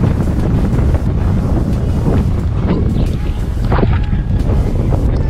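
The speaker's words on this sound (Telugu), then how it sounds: "విపరీతమైన గాలి అయితే వేస్తుంది." Strong wind at Mylavaram Dam roars and buffets the microphone continuously, a loud low rumbling gust that never lets up, with no clear voices over it.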